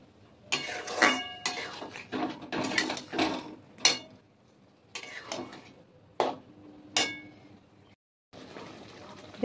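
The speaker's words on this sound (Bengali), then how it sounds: "এবার মশলাটা দিয়ে দিলাম, দেওয়ার পরে আলু দিয়ে এটা কষতে থাকবো ভালো করে।" Masala and potatoes stirred and fried in a pan for fish egg curry: a run of scraping, clinking utensil strokes against the pan in uneven bursts, fairly close, with a brief quiet gap near the end.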